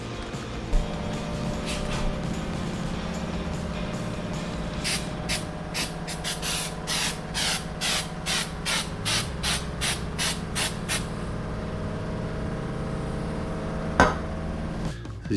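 An adhesive activator sprayed along the top edge of a granite countertop during a repair, heard as a long run of short, evenly spaced hissing bursts over a low background hum.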